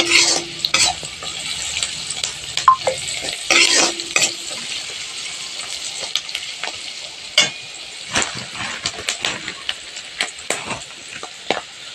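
Meat drops into a hot pan and fries, a steady sizzle under repeated spatula scrapes and clanks against the metal, close and busy, with no talking.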